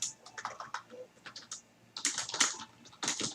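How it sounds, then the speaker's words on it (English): Quick, uneven clatters of keys on a computer keyboard, close by, coming in bursts with short pauses between runs of typing, no voices. "you probably hear me hitting the keys on the computer as well"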